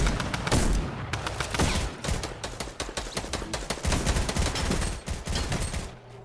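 Dense bursts of gunfire from the Fortnite Headshots Duo mode, including G90 shots, crack loudly in rapid overlapping volleys throughout, with no talk over them.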